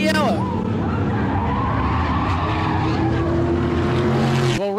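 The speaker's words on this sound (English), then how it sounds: "The third place car spins out" Modified race car spinning out on a track at New Smyrna, a loud sustained skid of squealing tires and roaring engine with other cars nearby, under excited race commentary.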